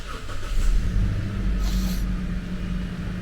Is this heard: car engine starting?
yes